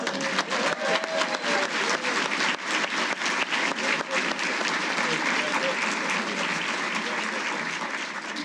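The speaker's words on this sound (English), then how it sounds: "Let's give a special round of applause." A large audience at an annual awards ceremony bursts into dense, sustained applause that stays loud and full throughout, with faint crowd murmur blended underneath.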